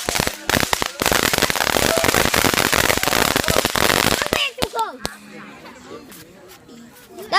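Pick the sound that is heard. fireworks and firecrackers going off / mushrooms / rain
fireworks and firecrackers going off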